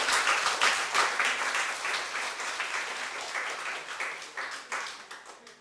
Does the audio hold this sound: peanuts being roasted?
no